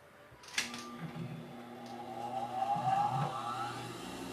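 A sewing machine stitches bias binding along a folded edge, a steady mechanical whir that starts after a small click and runs continuously, fairly close and moderately loud.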